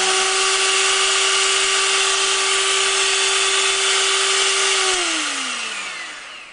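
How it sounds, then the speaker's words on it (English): An electric hand mixer runs at its highest speed while cleaning buttercream off the beaters, a loud steady whirring whine that holds for several seconds and then winds down as the motor slows at the end. "So you go to the highest speed and you clean off the excess off your mixer."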